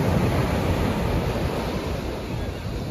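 Ocean surf at Myrtle Beach washes in a steady broadband rush, with wind noise across the microphone and no distinct voices.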